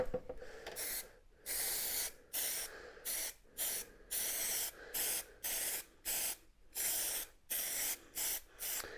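Short, loud bursts of spray glue hiss from an aerosol can onto a car seat part for a '74 VW Beetle rear seat retrofit, repeating in a steady on-off rhythm with brief gaps between sprays.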